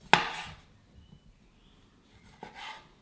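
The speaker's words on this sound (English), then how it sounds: "get a sharp knife and slice our cherry tomatoes in half" A sharp knife slices through cherry tomatoes on a board in a kitchen: one crisp cut at the start, a long quiet pause with faint handling, then a second softer cut near the end.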